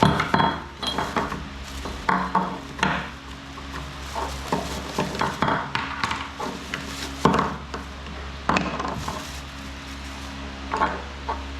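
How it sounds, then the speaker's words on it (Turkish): Box of a Loncin 50ZB two-inch petrol water pump being unpacked, with irregular knocks, clinks and rustling of parts and packaging close by, in uneven bursts without talk. "Ambalajı açıyorum."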